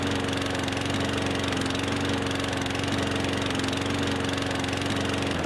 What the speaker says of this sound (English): So that's mowing around the tree and leaving the grass uncollected.